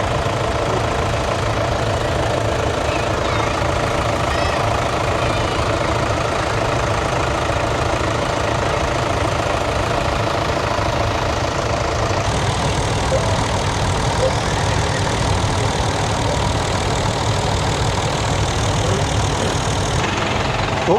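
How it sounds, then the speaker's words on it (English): Steady low engine rumble of tractors idling at a Barley Saturday parade, continuous and fairly loud throughout, with no voices. "So here are the tractors ready to come down then."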